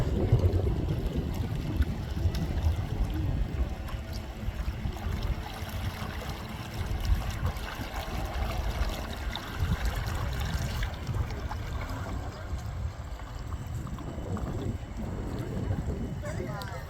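A radio-controlled model boat runs on a lake, its hull pushing through the water in a continuous rushing, trickling wash with wind noise, steady and fairly close for the whole stretch.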